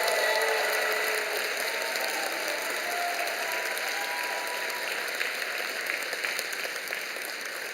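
Sustained applause from a large church congregation at a teacher appointment and award ceremony, steady dense clapping throughout that tapers slightly toward the end.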